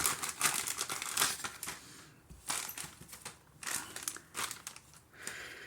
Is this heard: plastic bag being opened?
yes